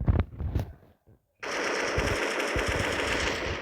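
AK-147 gunfire in a modded video game: after a few scattered sounds and a brief pause, a rapid, loud automatic burst starts and keeps firing steadily to the end.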